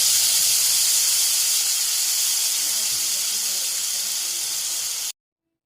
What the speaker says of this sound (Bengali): তেলের মধ্যে মশলাটা দেওয়ার সঙ্গে সঙ্গে তেল ও মশলাটা এমনভাবে লাফালাফি শুরু করেছিল